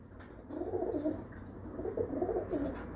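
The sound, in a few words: Tyson breeder pigeon cooing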